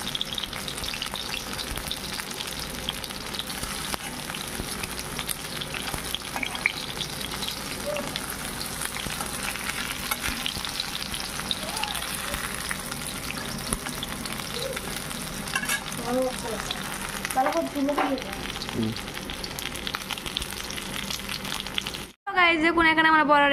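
Pumpkin-leaf fritters (bora) fry in hot oil with a steady, close sizzle throughout, occasional stirring, and a voice speaking over it.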